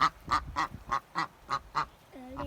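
A duck quacks eight times in a quick, evenly spaced run, close and clear, followed by a softer drawn-out call.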